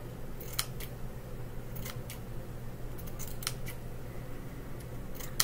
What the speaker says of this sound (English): I'm using my scissors.